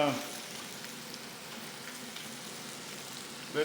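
Food frying in a pan gives a steady, even sizzle that hisses like light rain throughout, with a brief clatter near the end and no talk.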